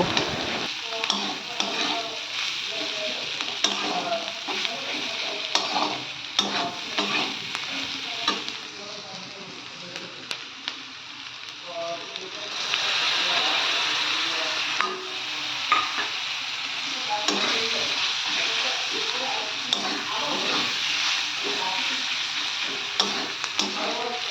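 Capsicum frying with turmeric and chilli powder, stirred steadily in the pan: continuous close sizzling with repeated spatula scrapes and clicks, a louder hiss rising midway, and no talking throughout.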